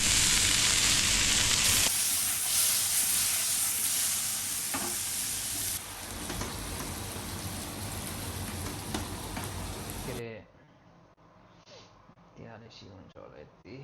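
Cumin seeds hit hot oil while chicken cooks, a loud, bright sizzling hiss that fades gradually and drops off sharply near the end, with a voice talking underneath.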